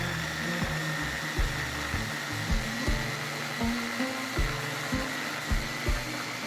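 A kitchen blender whirs steadily while mixing food for batch cooking, its motor pitch dipping and rising in quick repeated pulses as the contents shift, close and fairly loud with no talking.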